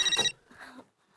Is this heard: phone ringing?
yes